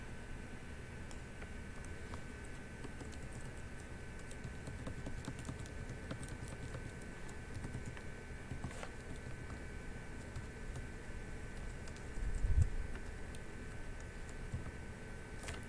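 Faint, steady clicking of a computer keyboard as commands are typed while setting up a Raspberry Pi 4 to control a servo motor, a soft patter of keystrokes over low room hum with one brief thump near the end.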